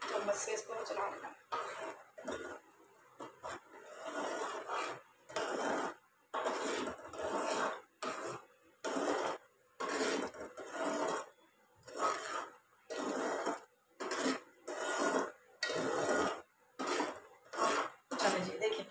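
A spoon stirs beaten egg into a thin soup in a metal pot, giving repeated clinks and scrapes in short bursts with pauses between, close by, as someone talks over it.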